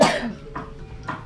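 An adult coughs sharply once, then gives two softer coughs in quick succession, close to the listener, with no talk in between.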